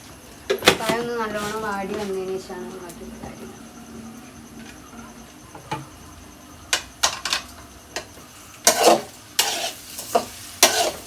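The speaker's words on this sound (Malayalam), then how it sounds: "പഞ്ചസാര ഇട്ടു അതിനുശേഷം ഒന്ന് ഇളക്കി കൊടുക്കുക" Coconut and sugar stirred in a pan, a voice talking briefly near the start, followed by intermittent scraping clicks and knocks of a spoon against the pan, close by with faint sizzling in between.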